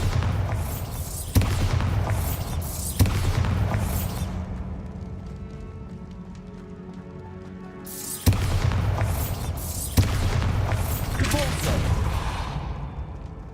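Confringo and Bombarda blast spells in the video game Hogwarts Legacy go off as heavy booming explosions, a few loud bursts with whooshing tails and a quieter lull between them.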